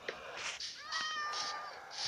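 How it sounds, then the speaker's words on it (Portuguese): Cat in the Craft War video game meowing several times, short rising and falling mews close by at moderate volume with small gaps between calls and no speech over them. "Outro gato."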